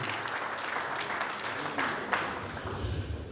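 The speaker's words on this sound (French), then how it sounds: "Si on peut applaudir encore pour ce monsieur capable et différent" Audience applause at a 70th birthday celebration, a steady wash of many hands clapping together for about three seconds, fairly close and dense with no pauses.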